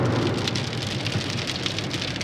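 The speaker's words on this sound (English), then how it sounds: "So I caught up to some storms here." Heavy thunderstorm rain in the Arkansas Ozarks, a dense, steady hiss of drops pattering on a surface nearby, continuous throughout, with no talking.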